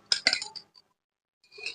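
A fork or whisk clinks against a bowl while beating eggs until frothy for a fluffy omelette: two close, bright bursts of rapid metallic tapping, a pause of near silence, then another short flurry, with no talk.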